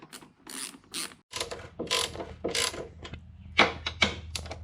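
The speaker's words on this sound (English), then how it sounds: "Next is just undoing this cover so you can get to the strut top." Cover screws on a Porsche 996 Carrera 4 being undone with a T25 Torx driver, giving a series of close, short ratcheting clicks and metallic scrapes in uneven bursts, with no talking.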